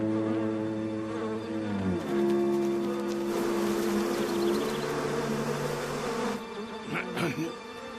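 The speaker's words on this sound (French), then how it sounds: "depuis ce matin, certaines abeilles sont complètement dingos" Agitated bees buzzing steadily and close by, a continuous droning hum that shifts pitch partway through, with faint low background noise underneath.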